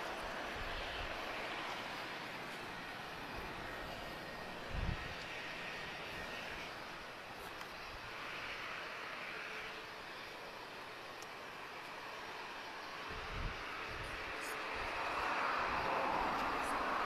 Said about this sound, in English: TP532, she's off to Berlin. This is an A321neo.